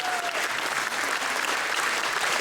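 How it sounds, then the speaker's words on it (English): Audience clapping during a Home Depot store grand opening in Renton, a continuous, fairly loud crowd applause heard alone throughout the short stretch. "let's clap for that"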